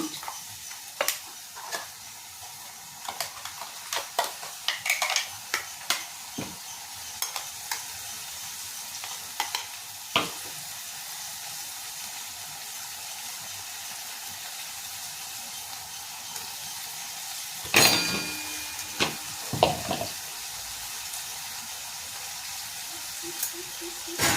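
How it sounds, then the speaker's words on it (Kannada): Spice masala frying in a pan for a beetroot and chickpea gojju produces a soft, steady sizzle under intermittent stirring scrapes and clinks, with a sharper burst of clatter midway. "ಸ್ವಲ್ಪ ಮಸಾಲೆಲ್ಲ ಒಂದು ಸ್ವಲ್ಪ ಹುರಿಬೇಕು ಹಸಿ ಸ್ಮೆಲ್ಲೆಲ್ಲ ಹೋಗ್ಬೇಕದು"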